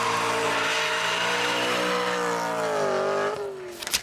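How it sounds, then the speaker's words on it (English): A BMW E90 fitted with a swapped VTEC engine and aftermarket exhaust, held at a loud, high rev with a raspy harmonic drone that dips in pitch before cutting off abruptly. "this engine is wildly cool and sounds ridiculous with an aftermarket exhaust"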